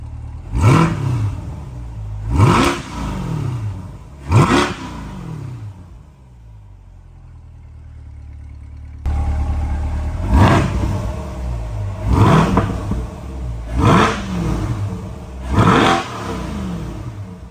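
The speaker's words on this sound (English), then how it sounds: "It's hard to believe there's that much more sound with just the exhaust tip." A Corvette C8 fitted with round exhaust tips revs in short, sharp bursts, three blips, a lull of idle, then four more, each a loud rising snarl falling back to a deep rumble.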